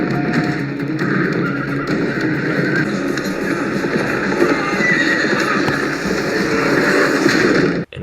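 Steady clip-clop of horse hooves from the film John Wick: Chapter 3 – Parabellum, with occasional whinnies, loud and close, continuing without pause over a dense outdoor background.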